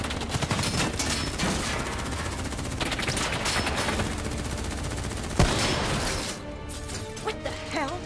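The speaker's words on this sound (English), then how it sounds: "Who's shooting?" Heavy gunfire in the video game Call of Duty: Black Ops III, dense overlapping automatic bursts and shots that run without a break and fade near the end, with a sharp crack just before.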